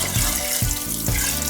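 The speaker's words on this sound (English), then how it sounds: "we're going to add a little bit of water in so that this bad boy can" Water pours into a cooking pot while making Indonesian nasi rawon, a close splashing gush with three brief heavier pulses at regular intervals, no talking.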